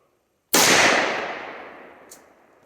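A single sharp gunshot fired at targets, loud and close, cracking out of silence and trailing off into a long echoing decay over about two seconds.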